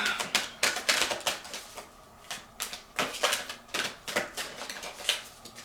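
Rapid bursts of new, stiff tarot cards riffling and slapping together, several quick shuffles in a row with short pauses, close and crisp.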